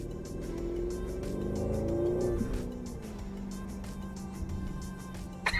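An Audi RS6 C7 Nogaro Edition with 705 horsepower hums and revs while driving, a steady low rumble with a shifting pitch and a brief knock near the end.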